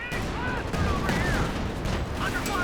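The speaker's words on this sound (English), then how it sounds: "Trying to clear out these machine guns" Dense, continuous battlefield gunfire from machine guns and rifles in Company of Heroes 2, a steady loud roar of overlapping shots and blasts under a commentator's voice.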